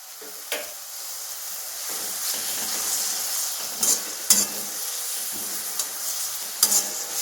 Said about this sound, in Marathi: कांदा व्यवस्थित पोलून निघेल तेलामध्ये